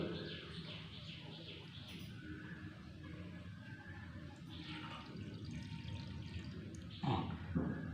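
About 50 ml of water is poured onto a JUS LEAP ANION sanitary napkin, a faint, quiet trickle and soft splash in a still room, with a brief louder splash near the end.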